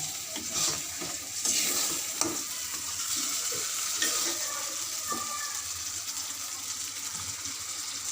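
Aair fish mustard curry being sautéed in a pan, a close steady sizzle with repeated stirring and scraping strokes, no voices.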